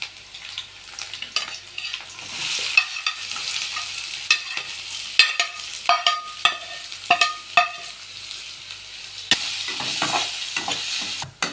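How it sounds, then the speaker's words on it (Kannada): Onions fry in hot oil for gobi manchurian while a spoon stirs them. Steady sizzling runs throughout, punctuated by repeated scraping, clinking stir strokes against the pan. "ಈ ಥರ ನೀಟಾಗಿ ಫ್ರೈ ಆದಮೇಲೆ ಈರುಳ್ಳಿ ಹಾಕಬೇಕು."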